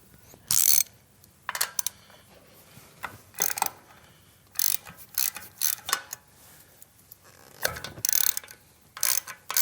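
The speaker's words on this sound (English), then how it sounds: "There's going to be 2 breather bolts in here. You're going to need a deep well 7/16 to pull those out." A 7/16 deep-well socket on a ratchet wrench backs out breather bolts on a Milwaukee Eight Softail motorcycle, giving short, close bursts of rapid ratchet clicking with brief quiet gaps between strokes.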